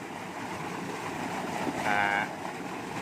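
Steady rushing water pours from a drainage pipe mouth at a fishing spot, flowing continuously, with a brief tonal whine rising briefly in the middle.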